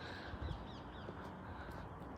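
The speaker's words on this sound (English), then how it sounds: "Got the birds in the sky." Crows caw from the sky overhead outdoors, a few hoarse calls at moderate distance over a steady background hush, with no one talking.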